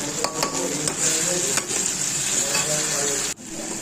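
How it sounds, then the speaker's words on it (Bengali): A spice paste of chili and turmeric with cumin powder fries in a pan for a vegetarian pumpkin dish, with a constant close sizzle and rhythmic stirring scrapes, then a sudden brief drop. "এটা সুন্দর করে মশলাটা একটা ভাজা ভাজা করে একটু জিরে গুঁড়ো দিয়ে দিলাম"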